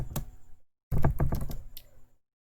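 Fingers tap out two short bursts of typing on a computer keyboard, close and crisp, with a brief pause between the clusters of keystrokes.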